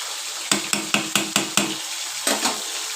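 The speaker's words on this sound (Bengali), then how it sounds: "এখনও মাছগুলো ভেজে নিচ্ছি।" Fish frying in a pan, with a steady close sizzle broken by a quick series of about six sharp scraping or tapping strokes, then two more after a pause, and no talk.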